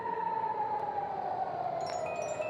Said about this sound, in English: And sirens coming off here again for Tel Aviv.